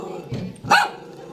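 A dog gives two quick barks close by, the second sharper and louder, against a quiet background.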